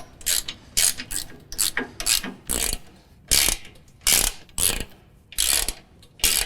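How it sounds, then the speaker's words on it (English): Ratchet wrench tightening nuts while installing a boarding step kit on a Z320R zero-turn mower, heard as repeated loud bursts of rapid clicking, about a dozen strokes with brief pauses between them. "we'll just get those nuts started on each one. And then just tighten it up."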